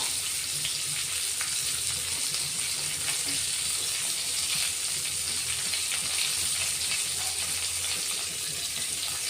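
Bitter gourd (karela) cooks in a pan over a low gas flame, giving a steady, soft sizzle and hiss that runs continuously throughout without any voices.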